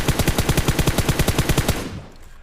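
Automatic gunfire in the mobile shooter game PUBG Mobile: a fast, loud burst of about fifteen evenly spaced shots at a shooting-range target, ending abruptly and leaving a short fading tail.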